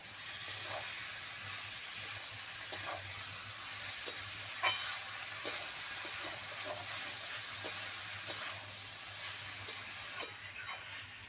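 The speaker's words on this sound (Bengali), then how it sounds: "মশলার সঙ্গে খুব ভালো করে মোচাগুলো আমি মিশিয়ে নেবো" Boiled banana flower being mixed with spices and potato in a pan produces a continuous low sizzle punctuated by regular spatula scrapes and taps against the pan, moderately close, no talking.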